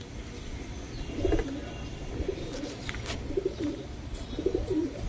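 Giribaz pigeons coo repeatedly nearby, soft throaty calls in uneven bursts over a busy background with occasional chirps.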